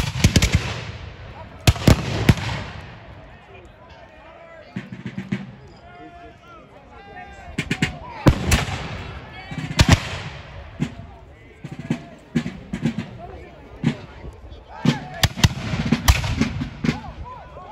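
Reenactment musket volleys crack out as sharp, loud reports in several bursts, some shots tightly grouped and others spaced apart, over shouted drill commands and voices outdoors at a park.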